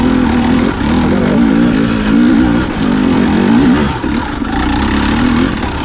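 A 2023 Husqvarna TE300 Heritage enduro motorcycle engine revs loud and close, with a continuous throttle-varying drone and brief dips as the rider works through a trail.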